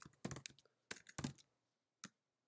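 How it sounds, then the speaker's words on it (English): Quick bursts of clicky typing on a computer keyboard as a spreadsheet formula is entered, close and clear in a quiet room, with a few separate keystroke clusters and a lone final tap. "I start by typing the sparkline formula"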